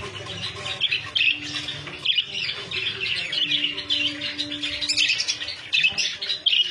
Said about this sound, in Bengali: বদ্রি পাখি